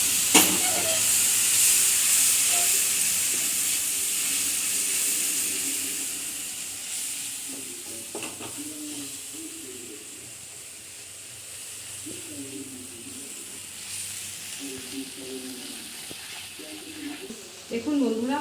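Kashmiri chilli spice masala sizzling and hissing in a pan after water is added, a steady loud hiss that gradually fades, with a person talking over it.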